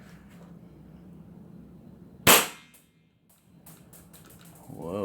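An Action Army AAP-01C airsoft pistol on HPA, set to full auto, lets off one loud, sharp crack up close amid quiet handling noise, with no sustained burst following.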